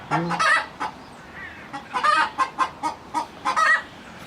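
A chicken clucks close by in a series of short, sharp bursts with uneven pauses between them, frightened after an eagle attacked its coop.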